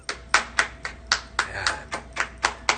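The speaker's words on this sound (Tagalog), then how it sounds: "Palakpak, palakpak, clap, clap, clap, clap, clap" Hands clapping in a quick, slightly uneven rhythm, about eleven sharp claps close by, with no voice between them.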